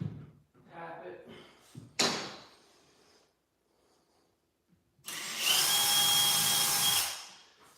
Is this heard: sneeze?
no